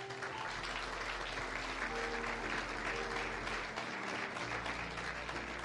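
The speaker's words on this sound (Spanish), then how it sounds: "Gracias por los aplausos." An audience at a church service gives steady applause, with sustained low music tones playing underneath and no speech.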